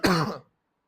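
A man clears his throat once in a short, harsh cough-like burst that ends abruptly into silence.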